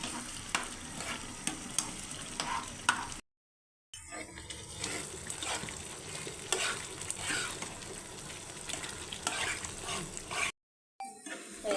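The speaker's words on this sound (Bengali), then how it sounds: "এগুলো নাড়াচাড়া করে একদম ভাজা ভাজা করতে হবে" Taro filling stirred and fried in a pan, a steady sizzle with scraping spoon strokes that runs continuously, broken by two short silent gaps.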